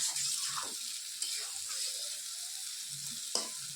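New potatoes being stir-fried in a curry, a steady close sizzle with soft scrapes of a spoon stirring through the pan, short bursts of clatter breaking the hiss.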